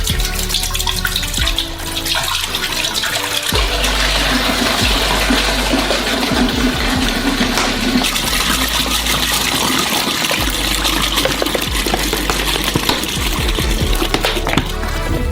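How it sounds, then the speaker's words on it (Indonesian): About 14 liters of milk poured from opened bottles into a large cooking pot, making a continuous loud gushing, splashing pour that runs steadily without pause, no talking. "dan tuangkan ke dalam panci besar."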